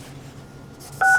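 A single telephone dialing tone sounds loud and close, a short steady DTMF beep at the end after a quiet background hum.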